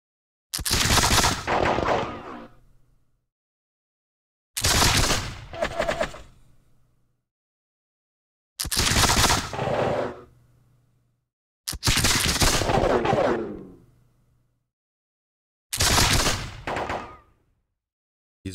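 Musket volleys in the video game Campaign 1776, set at the Battle of Cowpens: five loud crackling volleys of massed gunfire spaced a few seconds apart, each rolling out and fading, with silence between them and no talking.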